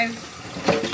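Tap water runs into a kitchen sink for washing plates, a brief close, hissy splash that grows louder near the end.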